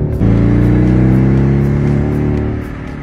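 Porsche Boxster turbo engine revving hard up close, a strong sustained harmonic roar that steadies and eases off near the end, with faint crackling pops from the exhaust.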